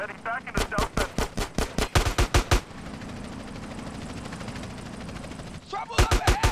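Rapid gunfire rattles through a GTA San Andreas street shootout, with loud evenly spaced shots in a tight burst, a stretch of steady rumbling engine noise, and then another close burst of shots.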